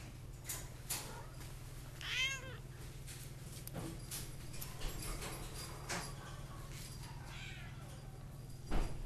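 Cat meowing at an adoption shelter, one clear rising-falling meow near the two-second mark and a fainter one later, over a steady low hum and light room noise.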